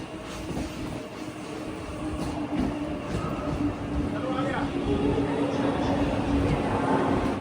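A Tejas Express train rumbles steadily into Churchgate station, a continuous loud rolling drone with rising clatter as it slows, with people talking throughout.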